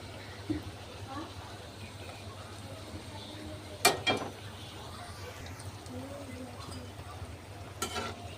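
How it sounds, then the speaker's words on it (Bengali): Luchi, puffed Bengali flatbread, fries in hot oil with a faint, steady sizzle. A couple of sharp stirring or utensil clinks stand out against it. "লুচি ভেজে নিচ্ছি বেলে নিয়েছি এখন ভাজতেছি"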